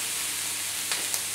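Bacon frying in a hot pan for a Caesar salad, giving a steady bright sizzle with a couple of sharp pops near the end, close and with no talk.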